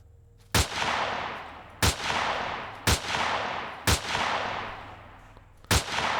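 Five spaced gunshots ring out in the sci-fi video game Empyrion Reforged Eden, each a sharp loud crack trailing off into a reverberant tail, fired at an uneven pace.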